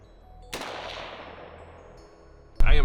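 A gunshot rings out against outdoor steel targets, its ring decaying over about two seconds before a second loud shot cracks at the end, with no talking.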